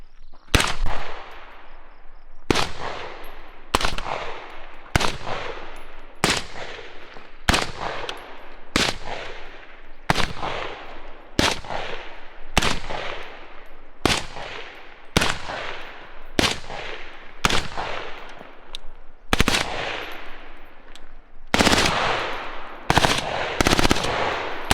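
Suppressed rifle gunfire outdoors, comparing a Griffin Optimus 6 suppressor with a B&T SRBS 556 printed suppressor: about twenty sharp muffled shots at uneven intervals of one to two seconds, each with a short decaying tail, with a few quicker pairs near the end.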